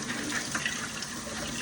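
A kitchen tap runs steadily as gloves are rinsed under it, producing a close, even gush of water with no voices.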